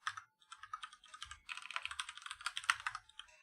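Rapid, uneven clicking of keys on a computer keyboard, close and clear, with short bursts and brief pauses and no talking.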